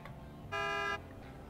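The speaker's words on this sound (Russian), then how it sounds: "Гудок." A single steady blast of about half a second from the horn of a Scout AAC-5 vehicle, sounding over a low engine rumble that continues before and after.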